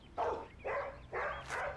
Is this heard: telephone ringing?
no